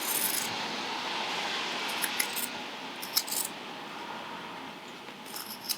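Scissors snipping fabric seam allowance on a tote bag, a few short, crisp metallic cuts scattered over a steady background hiss, close and fairly quiet, with no talking.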